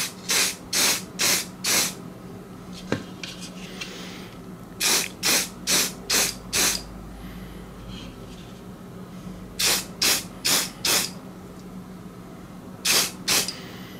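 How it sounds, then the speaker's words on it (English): Spray primer hisses in short sharp bursts, usually four or five at a time with pauses between, as coats are applied to a Bachmann class 205 model train coach in a small workshop. "Just put a nice coat of primer on there and see if there's any imperfections left behind."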